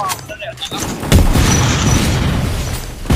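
A loud video-game explosion booms around the one-second mark, then rolls into a sustained rumbling roar.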